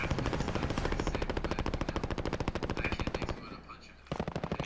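Rapid automatic gunfire in a battle royale shooter video game, a dense run of loud, evenly spaced shots that breaks off briefly and then resumes, close and dominant.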